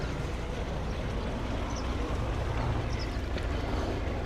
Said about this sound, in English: Small boat just coming in now.